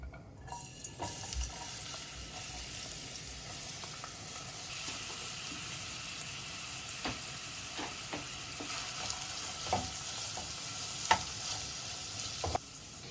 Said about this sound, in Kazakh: Біздің қызылшамыз қуырылып жатыр.